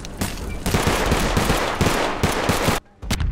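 Sustained automatic gunfire from a military roleplay video game, a dense rapid burst of loud shots that fills the clip and then cuts off abruptly near the end.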